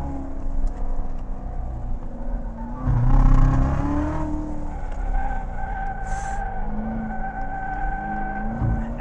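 A Chevrolet Corvette C7 Z06 pulls hard on a race track in third gear, its engine note rising and swelling loudly, with tire squeal and skidding as the car slides through corners.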